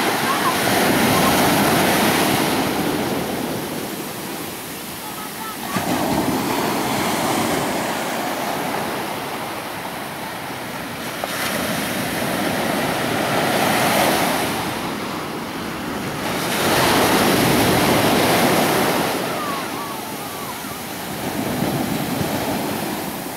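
Ocean surf at a black sand beach in Los Abrigos, Tenerife, Canary Islands: loud, continuous crashing and washing that swells and ebbs in slow waves, with heavy wind buffeting the microphone.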